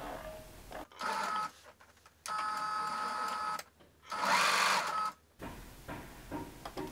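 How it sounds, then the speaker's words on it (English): A sewing machine stitches a fabric scrunchie in three short bursts of rapid mechanical whirring, separated by quiet pauses with faint handling noise. "So let's go back to the sewing machine and I'll show you what I mean."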